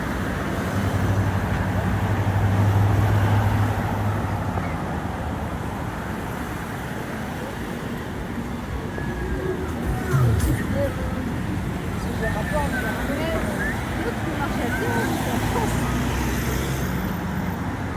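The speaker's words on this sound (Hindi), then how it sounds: "ट्रैफिक देखें आप, बहुत ज़्यादा ट्रैफिक है।" Heavy night-time city traffic in Tirana makes a steady, broad roar of passing cars and buses, continuous and fairly loud throughout, with a brief low thump partway through.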